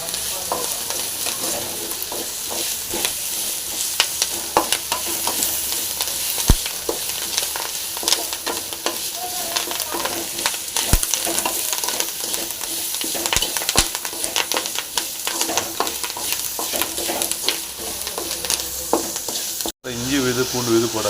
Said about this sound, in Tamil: இதையும் போட்டு நல்லா வந்து ஃப்ரை பண்ணிக்கலாம்